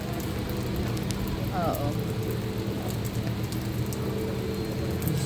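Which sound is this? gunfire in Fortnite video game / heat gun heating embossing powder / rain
rain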